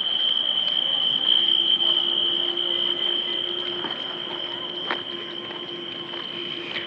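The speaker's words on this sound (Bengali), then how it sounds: "বাহিরে ঝিঝি পোকা, বিভিন্ন পোকামাকড়ের সাউন্ড শোনা যাচ্ছে।" Crickets and other insects chirp outdoors at night beside a roadside tea stall in an open area, a steady, unbroken high trill running through the whole stretch at moderate volume.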